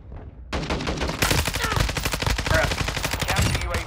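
Rapid DMR rifle fire in the video game Modern Warfare II, loud close repeated shots in a fast steady rhythm, layered with game radio chatter and talk.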